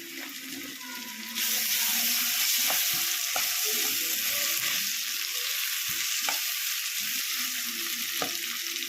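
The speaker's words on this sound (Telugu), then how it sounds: "ఇప్పుడు ఇందులో అల్లం వెల్లుల్లి పేస్ట్ వేసుకుందాం." Ginger garlic paste hits a hot pan for a prawn curry. The sizzle rises suddenly and then holds as loud, even frying, with occasional stirring clinks and scrapes and no talking.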